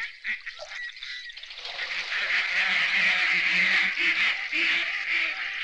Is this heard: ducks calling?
yes